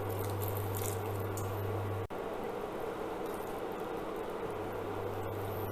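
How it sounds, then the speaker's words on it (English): Wet, squishy stirring of risotto made with Indian rice in a pot, a steady thick bubbling and scraping that runs continuously at close range with one brief click partway through. "Keep stirring till the rice soaks up all the liquid"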